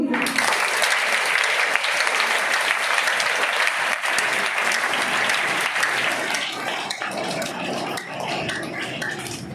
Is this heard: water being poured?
no